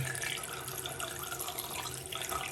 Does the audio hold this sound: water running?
yes